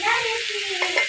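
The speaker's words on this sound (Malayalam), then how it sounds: "മിക്സാക്കി" Greens with turmeric and salt are stirred in a pan, giving a close, steady sizzling scrape that runs for about a second with a few brighter scratches near the end; no voices.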